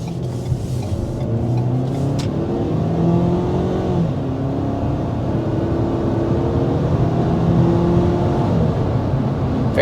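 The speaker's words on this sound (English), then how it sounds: "let's go ahead and start with a hard acceleration" A 2023 Ford Maverick with a 2-liter turbo engine accelerates hard through several gears, the engine note rising and dropping at each shift in a steady, moderately loud whirring drone heard from inside.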